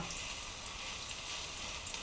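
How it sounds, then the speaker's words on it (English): Steady, close-up sizzling of potato pancake batter frying in hot oil in a frying pan, a constant crackling hiss with no talking. "She's just sizzling"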